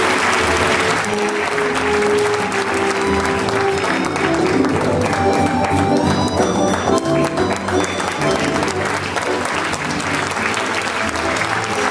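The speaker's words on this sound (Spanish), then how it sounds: "un fuerte aplauso." Loud, sustained audience applause at the San Roque neighbourhood festival queens' event in Novelda, dense clapping that holds steady throughout.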